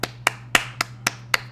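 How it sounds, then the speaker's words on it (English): Six single hand claps ring out slowly and evenly, close and sharp, with a faint steady hum beneath. "round of applause, man."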